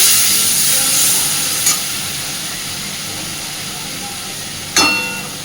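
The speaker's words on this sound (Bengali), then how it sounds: "মশলাগুলো যাতে পুড়ে না যায় সামান্য একটু জল দিচ্ছি" A little water goes into spice paste frying in a hot pan, giving a steady hiss of sizzling with two sharp splutters rising above it as the liquid hits the oil.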